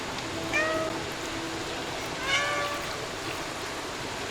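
Two separate meows from cats in the video game Stray, each short and clear, set about two seconds apart against a constant low background hum.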